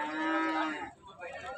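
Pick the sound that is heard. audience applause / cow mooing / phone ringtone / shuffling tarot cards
cow mooing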